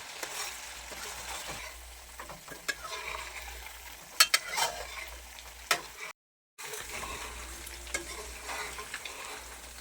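Coconut milk fries down into latik for Filipino biko, a soft, steady sizzle with occasional clinks and scrapes of a spoon against the pan, a brief gap of silence partway through.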